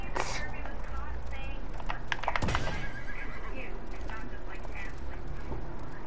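A horse whinnies amid busy game-style background noise from the video game Realm Royale, with hoof clip-clops and a voice talking over the mix.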